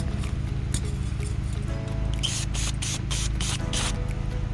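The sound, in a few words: spraying car cleaner on a Hyundai Elantra VVT solenoid sensor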